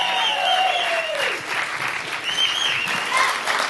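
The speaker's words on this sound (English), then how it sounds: "everybody make some noise for Chris Cornell and Ben Shepherd from Soundgarden" A club crowd applauds and cheers for Chris Cornell and Ben Shepherd of Soundgarden, dense steady clapping with whoops and shouts rising over it, loud and continuous.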